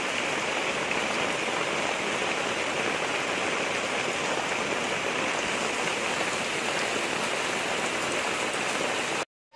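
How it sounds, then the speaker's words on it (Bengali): Heavy rain falls outside in a dense, steady, loud hiss that never lets up, ending abruptly, with no voices. "এত বৃষ্টি হচ্ছে ওদিকে বোঝাই যাচ্ছে না"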